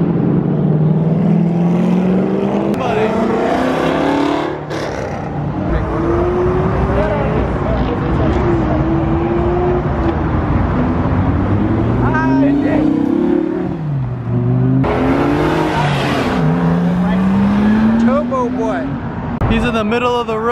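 Several Ford GT cars rev and accelerate away from a Houston cars-and-coffee meet, with loud rising and falling engine notes through gear changes, heard over crowd noise and talking.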